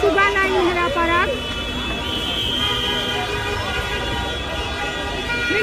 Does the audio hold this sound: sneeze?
no